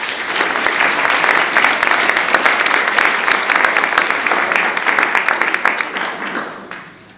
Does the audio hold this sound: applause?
yes